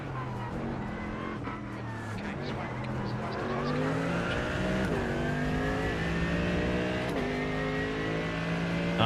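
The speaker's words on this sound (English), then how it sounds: "The engine's really loud in this car, but I like it." GT3 race car engine in the iRacing simulator revs and climbs through gears, a loud steady buzzing roar with rising pitch sweeps and brief shift dips, under occasional talk.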